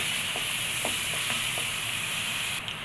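Finely chopped onion frying in two tablespoons of oil in a kadai: an even, hissing sizzle with a handful of faint stirring taps, cutting off abruptly near the end.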